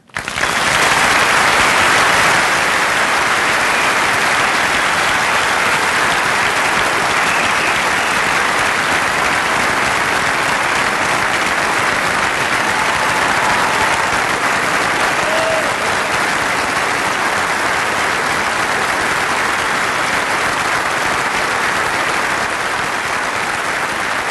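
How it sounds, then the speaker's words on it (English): Loud, sustained applause from a commencement audience greets the speaker, a dense unbroken roar of clapping that holds steady for over twenty seconds with little variation. "Thank you for that applause"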